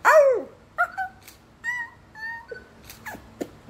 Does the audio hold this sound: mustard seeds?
no